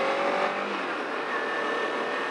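Kawasaki Ninja 300 motorcycle engine on a first ride, a steady close drone with a rising whine as the bike pulls along, continuous and loud throughout with no talk.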